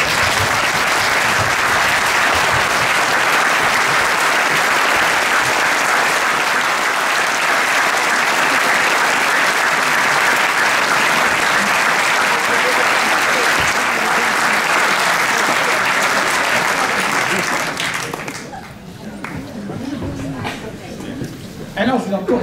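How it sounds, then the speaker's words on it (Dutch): A municipal New Year's speech audience claps steadily and loudly for about eighteen seconds in a hall before the applause cuts off, leaving quieter room sounds. "dan kunt u ze nog een dagelijks applaus geven voor hun inzet"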